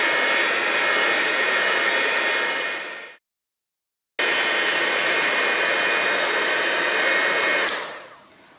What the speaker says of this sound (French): J'utilise ensuite mon hot gun et je vais venir donc chauffer de façon à plier cette partie-là.